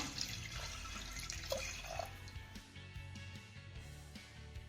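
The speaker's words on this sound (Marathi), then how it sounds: "यामध्ये आपण एक ते दीड ग्लास पाणी घालूया" Water poured into a pressure cooker holding washed toor dal, a steady close splashing and trickling stream with a few brighter drips, running throughout with no talking.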